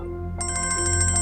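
A phone ringtone in a drama scene starts abruptly, a bright electronic melody pulsing and repeating quickly over a low steady hum.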